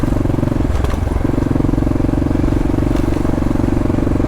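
Motorcycle ridden through thick, soft, marshy sand, a loud, close engine chugging at steady low revs with a brief dip and recovery, plus crunching and clattering from the wheels working through the ground.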